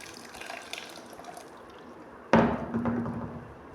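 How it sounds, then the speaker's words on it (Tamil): Blended amla gooseberry juice is poured through a kitchen filter, a sudden close splashing rush of liquid that starts partway in and keeps trickling, after a quiet stretch of faint background noise. "இப்போ அரைச்சிட்டு வந்த நெல்லிக்காய் இதை ஃபில்டர் பண்ணி எடுத்துக்கலாங்க"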